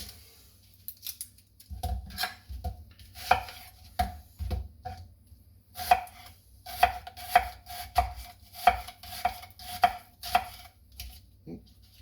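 A knife slices through Vidalia onions on a cutting board for summer pickles, giving a steady run of crisp, close chops with short pauses between strokes and no talking.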